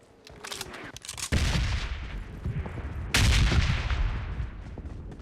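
M4 and UMP guns fire in a mobile battle-royale game, bursts of rapid loud gunshots in two heavy volleys, the second one starting abruptly and continuing dense to the end.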